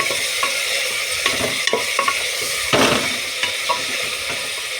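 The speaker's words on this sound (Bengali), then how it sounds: "এবারে আমি এটাকে কষবো, নেড়ে চেড়ে নেবো যতক্ষণ না এর মধ্যে থেকে তেলটা ছেড়ে দেয়।" Meat stirred and fried in oil in a pan, a steady close sizzle with repeated scraping strokes of a spoon through the pieces, no voices.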